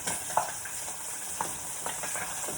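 Seabass fillet frying in a pan with thyme and garlic over medium heat, giving a steady broadband sizzle with a few sharp crackles and spits, close and fairly quiet, with no voices.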